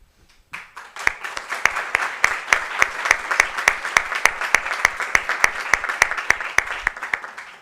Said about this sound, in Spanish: Han sido 5 ponencias espectaculares, así que le vamos a dar un aplauso y agradecer.